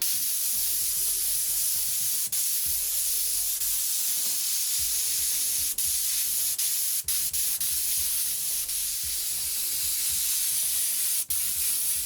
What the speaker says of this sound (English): we'll just go in here now and we'll spray these all in black